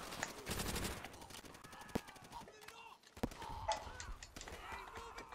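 Bursts of automatic gunfire and single shots crackle through Call of Duty: World at War combat on the final push for Mother Russia, with sharp cracks at about two and three seconds amid busy battle noise.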